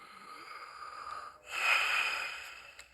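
Raspy breaths from a coughing patient during a doctor's examination in Red Dead Redemption II, a soft inhale followed by a louder, wheezy exhale, with no talking.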